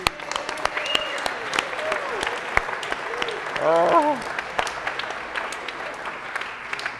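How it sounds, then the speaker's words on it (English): Scattered audience clapping at an event in a brewery, sharp individual claps ringing out sparsely and unevenly, with a voice briefly speaking over them midway. "Could you give a please huge round of applause for Mark and Carl?"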